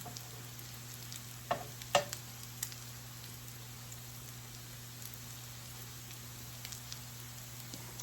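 Onions frying gently in a pan, a soft, steady sizzle with a few faint clicks of stirring, no voices.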